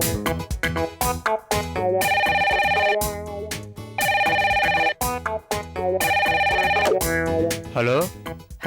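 A telephone rings in repeated bright electronic bursts, each about a second long, over busy background music with percussive hits.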